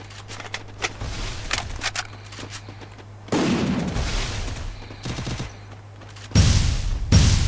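Gunfire in the mobile shooter game Free Fire comes in rapid bursts, with sparse single shots giving way to loud sustained automatic volleys in repeated clusters.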